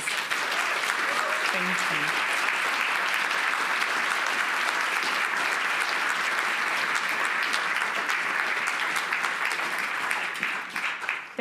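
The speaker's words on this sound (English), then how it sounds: "Can you all give this lovely panel a round of applause?" A large audience applauds a discussion panel steadily for over ten seconds, dense and sustained clapping that tapers slightly at the end, with a brief spoken voice early on.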